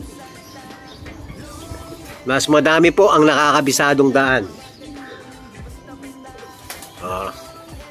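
Racing pigeons coo in a loft while someone speaks over them in Filipino; the bird sounds are soft and intermittent beneath the talk, with a short louder burst of voices in the middle.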